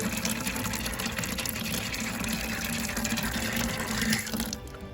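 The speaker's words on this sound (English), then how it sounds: "We should spit out some air and then start flowing some water here." Water gushes steadily from a newly installed water line into an empty bucket, a close, continuous rushing pour that eases slightly near the end.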